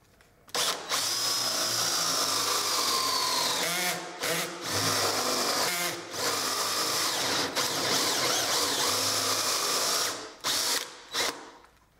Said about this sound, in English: we just turn on the drill, go all the way through the blank and into the bottom board just a little bit